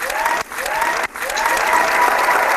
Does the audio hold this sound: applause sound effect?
yes